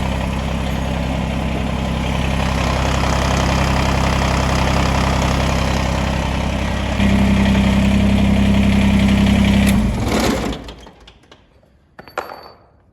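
A Kubota BX2380 compact tractor idling loudly and close by, then switching its rear PTO on, which adds a steady drone. After a few seconds the engine shuts off and goes quiet, and a couple of faint clanks follow.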